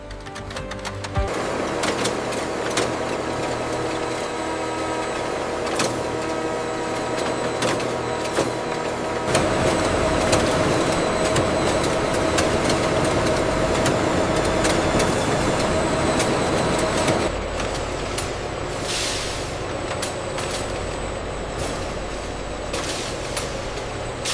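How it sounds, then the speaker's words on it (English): An offset printing press runs Pakistani rupee banknote sheets, laying down a 12-color background in one pass. A loud, steady mechanical roar and clatter continues throughout, with sharp hissing bursts and a denser, heavier stretch in the middle. "The offset press lays down the background, 12 colors, in perfect registration in a single pass."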